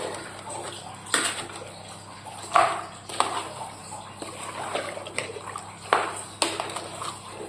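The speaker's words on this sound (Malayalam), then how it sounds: "നന്നായി ഇളക്കാം." Chicken curry with a little water is stirred in a pressure cooker, a spoon scraping and clinking against the metal pot in repeated close strokes about every second, with wet sloshing between them.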